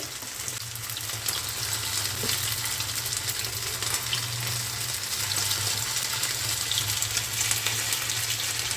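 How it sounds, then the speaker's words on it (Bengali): Sabudana vadas slipped into hot oil and deep-frying over medium-low flame, a steady broadband sizzle and bubbling that runs continuously at moderate level with no voices. "ফ্লেমটা হাই আছে আস্তে আস্তে ছেড়ে দিই বড়াগুলো মিডিয়াম টু লোতে করে দিলাম ফ্লেমটাকে"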